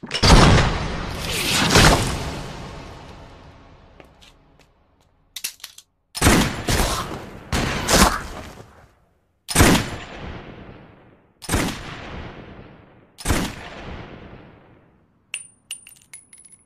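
Sniper rifle gunfire in an anime action scene: a series of loud, sharp single shots spaced a couple of seconds apart, each with a short decaying echo, heard alone without talk.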